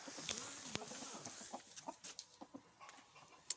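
Soft clucking from an Ethiopian (Habesha) chicken amid steady outdoor hiss, with scattered short clucks and calls, moderately distant.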